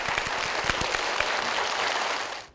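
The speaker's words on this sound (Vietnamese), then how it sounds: "Quý vị dành một tràng vỗ tay để bắt đầu." Audience applause at a Vietnamese TV game show, a dense burst of clapping from a studio crowd, steady and fairly loud, fading at the very end.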